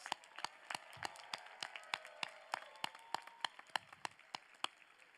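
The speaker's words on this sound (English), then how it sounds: "please recognize them with a big round of applause" Applause at the Cal Poly 2024 commencement for the College of Architecture and Environmental Design, heard as faint, distant, sparse clapping with sharp individual claps rising and falling in a slightly uneven rhythm.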